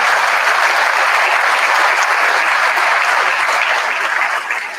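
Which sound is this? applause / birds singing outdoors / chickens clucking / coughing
applause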